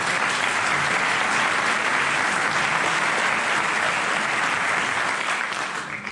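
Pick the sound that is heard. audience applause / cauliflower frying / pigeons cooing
audience applause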